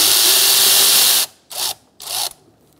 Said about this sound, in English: We're going to remove our top radiator hose using an 8mm socket for the hose clamp.